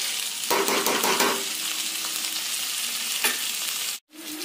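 Potatoes sauté in a pan for Bengali alu dom, giving a continuous loud sizzle with stirring scrapes early on, then cutting off abruptly near the end before a brief resumption.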